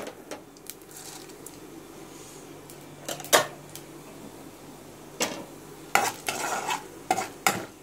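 Chana dal and fennel seeds frying in hot oil for potato masala, with a low sizzle broken by sharp scraping stirs and clinks of a spoon against the pan, close and irregular.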